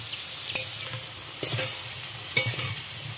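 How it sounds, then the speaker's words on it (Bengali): Potatoes frying in hot oil, an even crackling sizzle with scraping stirs and a few sharp utensil clicks against the pan, close and without talk. "আলু ভাজা হয়ে গেছে,"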